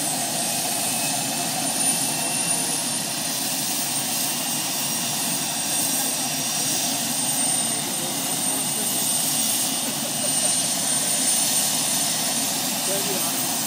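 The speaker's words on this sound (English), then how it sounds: "Oh, yeah, the helicopter." A helicopter engine running near Cornhill House, a loud continuous whine and rotor drone that holds steady throughout.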